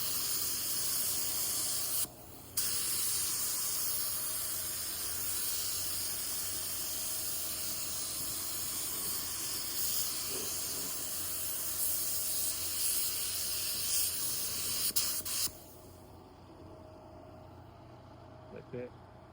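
A paint spray gun hisses continuously as it lays blueberry candy paint on a 1984 Chevrolet C10, a loud, unbroken airy rush. It pauses briefly once, then cuts off abruptly, leaving a quieter room.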